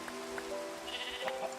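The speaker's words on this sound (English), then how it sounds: "they're grey sheep" Grey sheep in the Minecraft game Sky Factory 3 give a short bleat over a constant rain-like hiss, alone with no talk.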